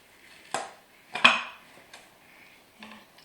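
A baking pan of monkey bread turned upside down onto another pan, giving two sharp metallic clanks close together, a lighter tap after them and one more soft knock near the end, with no talk over them.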